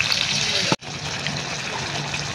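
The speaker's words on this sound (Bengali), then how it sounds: "এবার জল দিয়ে দিচ্ছি।" Water pours into a pot of browned, fried chicken masala, a close gushing splash that cuts off abruptly, then resumes as a softer continuous pour and sizzle.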